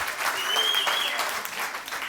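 Audience applause in a comedy club, a steady burst of clapping from a crowd that holds at even strength for about two seconds.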